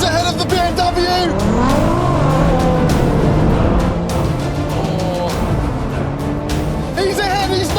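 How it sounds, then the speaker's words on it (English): A Nissan GTR races a BMW M4 xDrive and Audi RS5 in an all-wheel-drive drag race, engines roaring loud and continuous with rising and falling pitch as they accelerate, and someone speaks over the din. "And there's the GTR flying past again."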